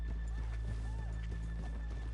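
Horses in Red Dead Redemption 2 clop their hooves in a steady, fairly close rhythm, with a short whinny rising above a low constant ambient rumble; a faint voice murmurs in the background.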